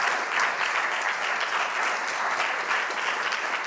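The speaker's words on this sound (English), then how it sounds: "So big applause for them." Workshop audience applauding as guests are invited onto the stage, a dense, even wash of clapping that holds steady for several seconds without any talk over it.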